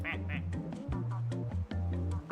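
Duck quacking in the Placid Plastic Duck Simulator video game, a run of harmonic quacks with game music or other sounds underneath, moderately loud and steady across the moment.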